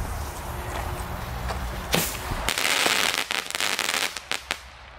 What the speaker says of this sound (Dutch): Nou, we hebben hier de Thunder King Crackling Mine.